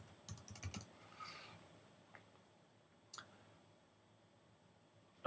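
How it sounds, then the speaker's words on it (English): Typing on a Mac computer keyboard, a quick burst of soft key clicks followed by a few isolated taps, faint and close with no speech. "I'm just going to type in what I need"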